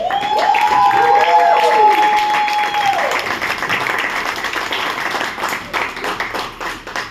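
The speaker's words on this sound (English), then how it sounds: "With a huge round of applause, help me welcome on stage Toastmaster Vashi." Audience applause welcoming a speaker on stage at a Toastmasters milestone meeting, steady clapping and a few cheers with a sustained tone over the first seconds, then tapering somewhat.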